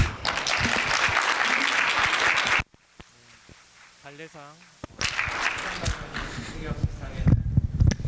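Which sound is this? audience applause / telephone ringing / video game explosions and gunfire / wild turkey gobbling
audience applause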